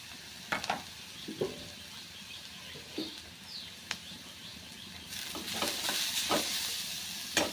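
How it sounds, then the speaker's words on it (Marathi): Green chili and garlic paste sautéing with onions, a faint sizzle punctuated by sharp spatula scrapes and taps against the pan, the frying growing a little louder toward the end. "हिरवी मिरची आणि लसूणचा जो ठेचा केला होता आपण तो टाकून घेऊया"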